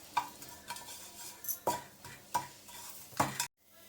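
A spatula stirs and scrapes ingredients being dry-roasted in a pan for an instant chitranna premix powder, giving about six steady, close strokes with faint frying beneath and no talking.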